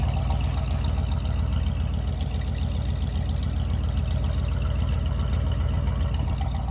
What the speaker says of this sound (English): But listen to this exhaust.